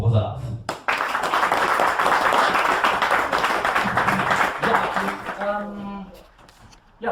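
Audience applause at a Cologne talent show, with loud continuous clapping for several seconds that tapers off as a voice starts talking.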